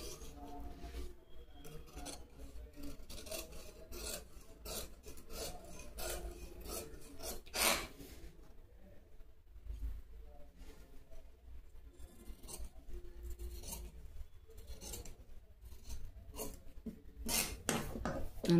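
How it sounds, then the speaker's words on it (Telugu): Scissors cutting cotton dress fabric by hand, close up, with steady rasping snips and rustling cloth in a continuous run, a few louder cuts and no voices. "దీని ప్రకారం మెయిన్ ఫ్యాబ్రిక్ కట్ చేసేయటమే."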